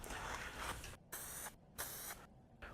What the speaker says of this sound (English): When you spray a panel with rattle cans